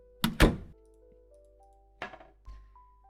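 A few hard thuds on a door: two heavy knocks close together, then after a pause two more separated blows, each loud and near in an otherwise quiet room.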